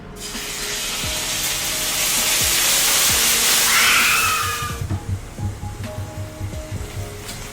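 Ginger dropped into smoking-hot sesame oil on a cooktop, a loud broad sizzle and hiss that swells for several seconds, then settles into quieter crackling and popping.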